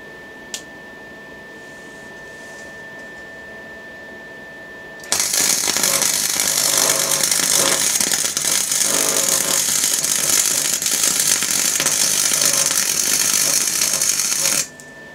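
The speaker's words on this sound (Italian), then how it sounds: "Proviamo a saldare." MVPower MIG wire welder running at its minimum setting: after a quiet start, a loud, dense, steady crackling buzz lasts about ten seconds, then stops abruptly.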